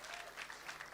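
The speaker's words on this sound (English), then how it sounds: "Can we revive that by clapping for Her Excellency again?" Audience clapping for Her Excellency at a business networking event, a brief, faint patter of many hands under light room noise.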